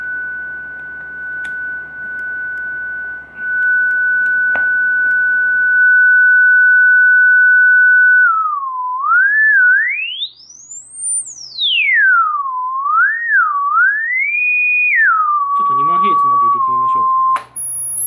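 Sine test tones played through a repaired JBL 4344 compression driver, holding a steady pitch and then sweeping up and down into very high whines, with short beeps and a voice talking near the end.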